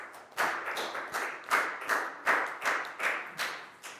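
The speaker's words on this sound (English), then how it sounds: "High five and a big round of applause for Down" Children in a Year 4 English classroom clap for a classmate, a short run of about eight rhythmic, unison claps, moderately quiet and evenly spaced.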